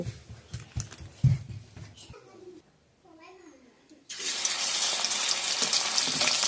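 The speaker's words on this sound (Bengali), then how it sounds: "হালকা গরম করে ওর মধ্যে আমি চিংড়ি মাছগুলো দিয়ে দিচ্ছি। 30 সেকেন্ড মতো আমি একটু ভেজে নেব।" Prawns go into lightly heated oil, and after a short lull a sudden, steady sizzle of frying bursts up and holds loud and close; voices and clatter come before it.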